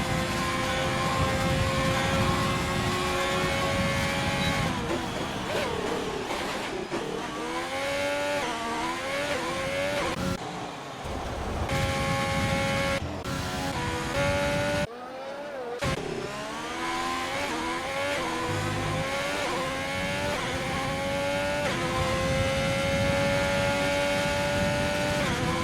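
Race car engine in a sim racing game during a league qualifying lap at the Netherlands circuit, loud and continuous, climbing in pitch through the gears with brief drops and cuts at shifts, no voices.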